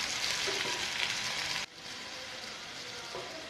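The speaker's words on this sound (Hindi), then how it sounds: "टमाटर डाल देते हैं इसमें। अब 1 मिनट और भून लेते हैं।" Tomatoes and soya frying in a pan make a close, continuous hissing sizzle with faint stirring, dipping briefly in level about halfway through.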